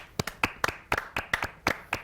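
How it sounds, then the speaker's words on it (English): A small audience claps for writer and director Nicholas Holmes as he is introduced on a panel show. About a dozen distinct, close, sharp claps come in a loose, uneven rhythm, with no talking over them. "The most applause I've ever received in my life"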